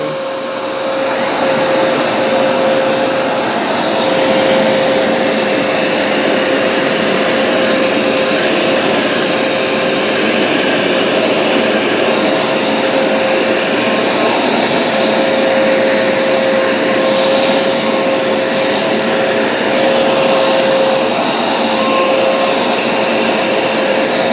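Wet-dry floor cleaner, a Bissell Crosswave or Hoover Smartwash, running continuously at close range with a loud, steady motor whine and suction roar, with no speech over it.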